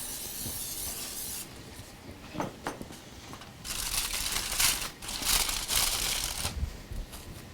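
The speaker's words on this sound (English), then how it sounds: "Spray down the pan there." A few short hissing bursts of cooking spray onto a pan for vegetable lasagna, then a longer steady spray, with light crinkling and handling noises between them.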